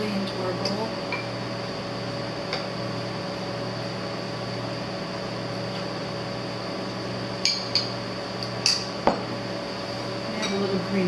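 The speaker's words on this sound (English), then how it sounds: "I'm just going to take a scoop of our rice, put it in there, spoon out some chili into our bowl" A spoon scoops rice and vegan chili into a bowl in a home kitchen, giving soft scrapes and a cluster of light clinks against dishware over a steady appliance hum.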